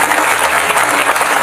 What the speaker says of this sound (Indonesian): Kita tepuk tangan juga untuk Ramayana.